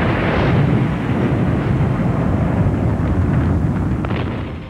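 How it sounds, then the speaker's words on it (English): A massive bomb explosion tears through the forward magazine of the battleship USS Arizona at Pearl Harbor, a huge deep roaring blast that rumbles loudly and sustains for several seconds before slowly fading. "The result was an instantaneous explosion."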